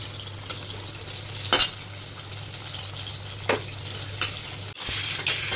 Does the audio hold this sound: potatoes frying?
yes